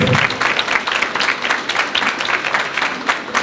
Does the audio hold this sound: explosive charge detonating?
no